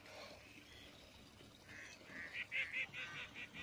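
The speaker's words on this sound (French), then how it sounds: "Les canards qui ont bien donné." Ducks call at night on the first night of the season, a quiet series of nasal honks and quacks at a distance, clustering in a rhythmic run toward the end over faint background noise.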